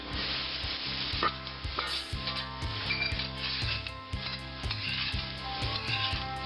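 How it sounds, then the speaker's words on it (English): Onions sizzling in a pan for a French-style cream of potato soup, a steady loud fry hiss with a spoon scraping and stirring in regular rhythmic strokes, close and without talk. "Now don't forget on these onions to keep an eye on them and keep them stirred occasionally."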